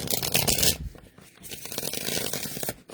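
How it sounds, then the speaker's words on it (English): A deck of tarot cards is shuffled up close, giving two dense bursts of papery riffling and flapping separated by a brief lull, with no talk. "Let's see, one more shuffle."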